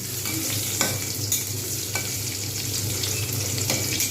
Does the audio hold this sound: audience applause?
no